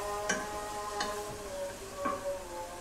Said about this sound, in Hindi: हम लोगों ने हिलाता रहना है और इसको फ्राई जब तक कि इस गोश्त का कलर चिकन का कलर बिल्कुल ब्राउनिश ना हो जाए